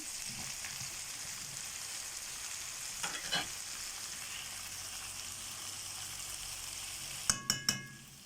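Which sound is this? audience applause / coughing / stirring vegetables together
stirring vegetables together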